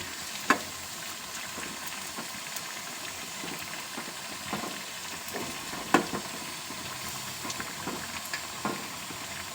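Ridge gourd fritters (bajji) frying in hot oil give a steady, soft crackling sizzle, broken by a few sharp clinks as the pieces are turned over.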